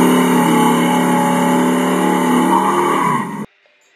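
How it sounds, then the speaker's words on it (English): A loud, sustained revving engine sound plays close up for a Hot Wheels toy car burnout fitted with wheelie bars, holding steady before cutting off abruptly near the end, with no talk. "gratuitous burnout. I never get tired of those."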